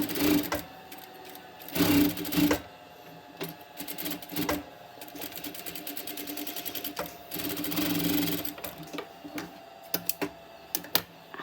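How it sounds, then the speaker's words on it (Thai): A sewing machine stitches through fabric in several quick bursts, its rapid mechanical clatter stopping and restarting with short pauses between runs, close and fairly loud, with no talking. "เย็บไว้ด้วย"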